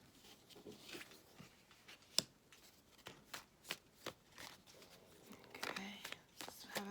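Tarot cards being shuffled by hand before a draw, a run of close, crisp riffling and slapping card sounds with sharp clicks, fairly quiet and without talk.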